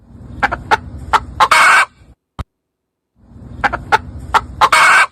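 Chicken sound effect: a series of clucks and gobbling fowl calls in two bursts separated by about a second of silence, loud and close, with no talk.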